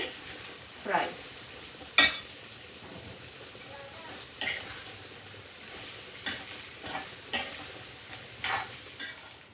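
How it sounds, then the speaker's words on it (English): Onion frying in a pan, a low continuous sizzle punctuated by irregular scrapes and knocks of a spoon stirring against the pan. "now let this onion fry."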